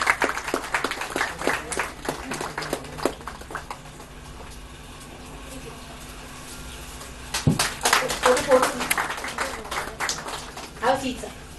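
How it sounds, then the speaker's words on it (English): A small audience at a bookstore book launch gives scattered clapping, uneven and close, dropping away in the middle and then picking up again in short bursts, with people talking throughout. "Big round of applause, ladies and gentlemen."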